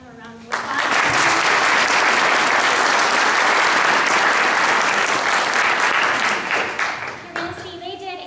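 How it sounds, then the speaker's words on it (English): At a school district board of education meeting, the room gives two students a round of applause: loud, sustained clapping from many hands for about seven seconds, with a voice speaking before and after. "So if you could give them a round of applause."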